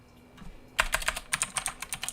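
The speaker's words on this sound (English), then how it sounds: "I start typing people's names." Rapid typing on a computer keyboard begins after a quiet moment, a close, dense run of light clicking keystrokes with brief pauses, heard alone over a low background hum.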